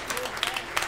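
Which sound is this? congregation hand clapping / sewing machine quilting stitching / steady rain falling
congregation hand clapping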